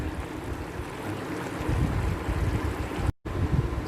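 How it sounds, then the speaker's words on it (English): Water coming to a boil for Goan-style prawn pulao, covered in a pot over a medium-low flame: a steady broad rushing bubble that holds for the whole stretch, with one brief dropout near the end. "So now we have a boil to the water."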